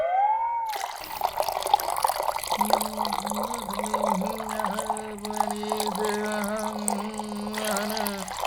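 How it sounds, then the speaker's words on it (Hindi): Cold water is poured with a steady splashing gush that lasts for several seconds, set against background music that starts after a short rising tone. "ठंडे पानी"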